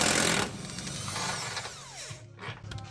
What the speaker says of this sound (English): blast the 4 fucking subframe bolts